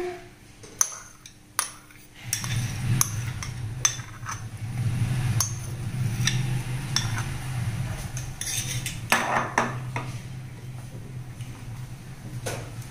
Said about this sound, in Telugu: Stir it once.